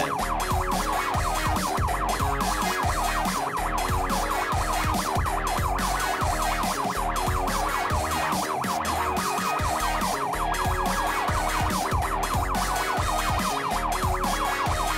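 A loud, continuous wailing ambulance siren rising and falling in a steady cycle, close by and mixed with a driving rhythmic background.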